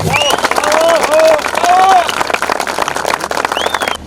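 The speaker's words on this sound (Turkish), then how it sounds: "Bunlara kocaman bir alkış istiyorum." A crowd at an off-road event in Ünye applauds in a dense, loud burst of clapping with scattered cheers and whistles mixed in, tapering slightly at the end.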